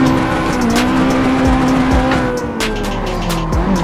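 A Nissan 240 drift car slides in the Assetto Corsa VR racing sim, its tires squealing continuously over a loud, wavering engine drone, with short bursts of screech along the way and no talk.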